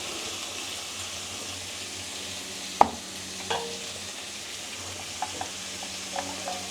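Tomatoes with rock salt sautéing in a pan for Tamil fish curry, a soft continuous sizzle with a sharp clack of a spoon and a few light scraping taps.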